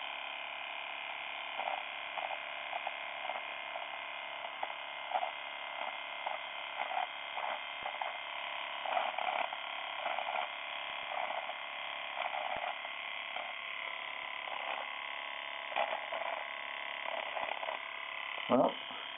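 An electric razor with a pop-up trimmer buzzes steadily and fairly quietly for the whole stretch, its motor drone holding an even pitch with small flickers as it moves across the skin.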